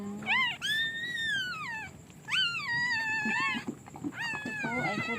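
Newborn puppies from a freshly whelped litter whimper and squeal up close, high wavering cries rising and falling in several long overlapping bursts with short pauses between.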